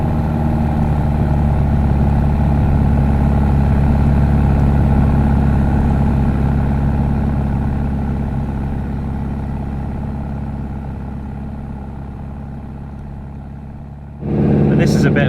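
A Jeep engine labours steadily while climbing through deep powder snow on a winter camping trip, giving a loud, continuous low drone that eases slightly over time before a brief surge at the end; voices may be present faintly.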